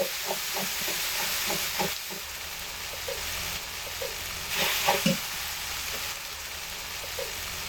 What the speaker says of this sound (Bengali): আদা বাটা দিয়ে দিচ্ছি আর জিরে বাটা মশলাগুলো দিয়ে আবারও একটু কষিয়ে নিচ্ছি